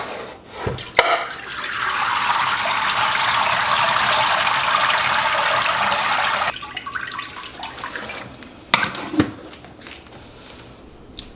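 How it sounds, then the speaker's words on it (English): Tap water gushes steadily into a sink as peas are rinsed, a broad hissing pour lasting several seconds before cutting off, followed by scattered splashes and clunks of handling. "Look how dirty that water is. That's why you rinse them, and we're going to rinse them again."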